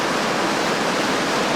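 White water rapids rush past a rafting run, a loud, dense, steady roar of churning water, close and unbroken for the whole moment.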